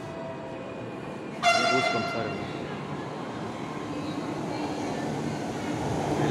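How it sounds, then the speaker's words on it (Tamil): A Chennai Metro train pulls into a station and sounds a loud horn blast, followed by a steady rolling rumble and hum. A voice talks briefly over it. "இப்போ நம்ம ட்ரெயின் வந்து தான் வந்துட்டு இருக்கு பாருங்கள்."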